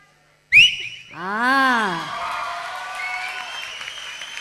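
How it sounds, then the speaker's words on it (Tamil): One person whistles powerfully on stage at a music competition, a sharp piercing note followed by a loud swooping, warbling run that trails off amid crowd noise. "இங்கே இருக்கிற எத்தனை பேர் அந்த அளவுக்கு அழகாக விசில் அடிப்பாங்கன்னு தெரியல, ரொம்ப அழகாக அடிச்சிங்க"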